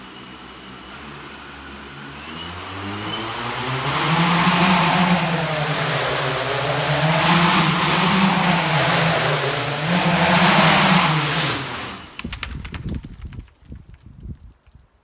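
Manned multirotor quadcopter with 38 motors buzzing in a loud, dense drone that swells and wavers in pitch as throttle shifts, then cuts out abruptly, leaving scattered clatter and thumps.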